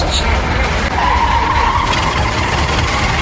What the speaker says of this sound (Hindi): पिकलू ने तुरंत गाड़ी बढ़ाई